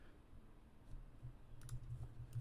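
A computer mouse gives a few soft, quick clicks near the end over a low steady hum, with a faint click earlier on and no voices.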